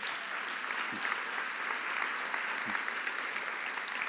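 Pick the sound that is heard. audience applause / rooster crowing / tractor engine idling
audience applause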